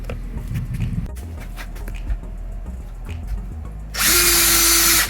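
A power drill whines loudly for about a second near the end while boring a hole during construction of a beach house outdoor shower, after quieter handling noises and taps.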